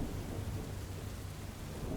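Thunderstorm with steady rain and deep rolling thunder, a continuous dense wash of rumble and downpour at even loudness throughout, no voices.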